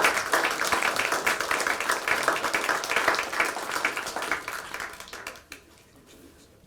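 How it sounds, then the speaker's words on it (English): Applause at a city council meeting, a room of people clapping steadily for several seconds before it quickly dies away, with faint voices underneath. "A round of applause for these guys."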